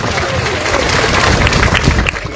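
A church congregation at an Easter revival service breaks into loud, continuous applause, a dense wash of many hands clapping together with crowd noise mixed in.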